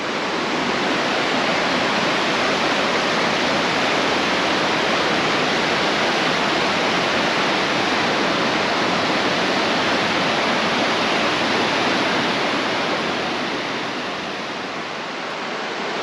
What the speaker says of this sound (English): Just past my 4th or 5th stream that's going into Eagle Creek.